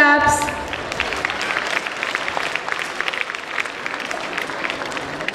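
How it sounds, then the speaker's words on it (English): A school annual day audience claps loudly, the steady, dense applause of many hands filling the hall after a brief chime at the start. "you should cheer them up with your loud claps"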